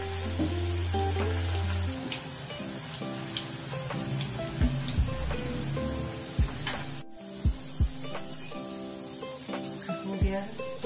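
Vegetable Manchurian balls frying in oil on medium heat, a steady loud sizzle throughout with occasional pops and thumps, and speech heard over it.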